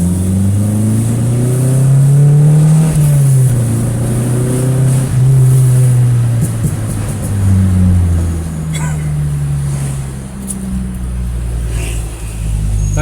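A car running on adulterated fuel with MegaSquirt fuel injection revs hard and accelerates along an empty avenue. The engine note climbs and falls through several pulls and gear changes under a driver's voice.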